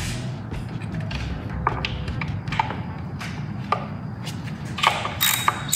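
Ratchet wrench turning a 10 mm bolt on a Honda Accord valve cover during gasket replacement, a steady run of fast mechanical clicks with sharper ticks scattered throughout, close and fairly loud.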